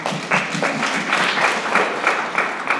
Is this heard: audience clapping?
yes